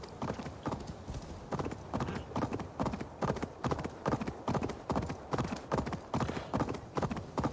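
Horse hooves clip-clop in a steady, rhythmic gait in Assassin's Creed Valhalla, close and clear, continuing evenly throughout with no talking.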